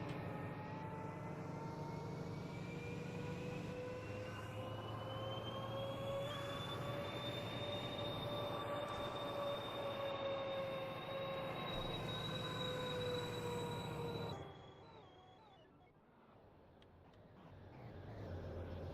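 Loud, steady diesel drone of a Valenta-engined train in Train Simulator, with sustained whining tones rising gently before cutting abruptly to a quieter rumble that swells again.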